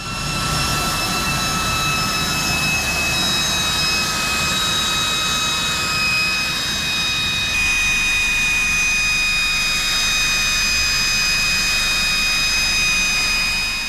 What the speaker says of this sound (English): I'm gonna let Tyler continue on grinding this, opening it up so it'll match the new throttle body